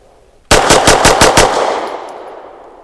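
Grand Power X Calibur Mk23 9mm pistol fires six quick shots in a tight, loud rapid string, each sharp crack running into the next, then a long reverberant ring-out fading over a second; no voices.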